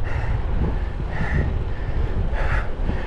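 Steady wind buffets the microphone while cycling along the Danube, a constant low roar with no pauses and no voices.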